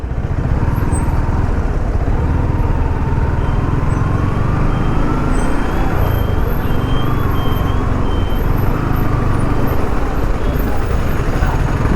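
Busy road traffic on a highway between Thrissur and Coimbatore, a loud continuous rumble of vehicles passing close by, with engine drone and occasional tonal hums filling the whole stretch.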